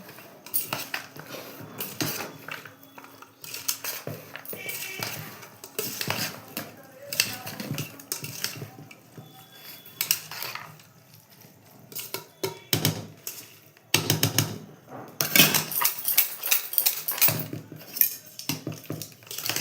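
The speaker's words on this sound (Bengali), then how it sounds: "আগে আমি এটাকে ঝাঁকিয়ে নেবো। এরপরে আমি এই যে হাতা দিয়ে মাখাবো।" Chana being shaken and then mixed with a metal ladle in a pan, giving repeated clinking and scraping of metal on metal in bursts, close and fairly loud, with no talking.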